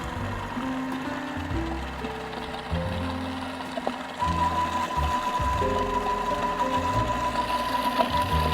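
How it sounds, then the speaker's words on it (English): A food processor runs at low speed as an ingredient is streamed in while mixing sugar-free banana cake batter, giving a steady motor whine that sits close and continuous, with a constant tone appearing partway through. "when your food processor is going on, just put it in a low speed and you stream in"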